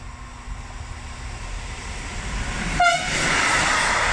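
A train rumbles steadily through platform 1 at Anzola Emilia station, growing louder, then a sharp horn blast rings out and the roar of passing cars fills the end.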